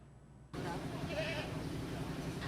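Goats bleat at the Karangploso livestock market ahead of Eid al-Adha, a couple of short wavering calls rising over a dense, steady crowd murmur after a sudden jump in background noise.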